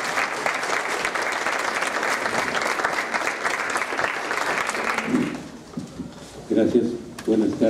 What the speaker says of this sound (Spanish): Démosle un fuerte aplauso al doctor Mario Humberto Ruz.